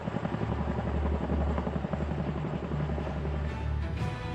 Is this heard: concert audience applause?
no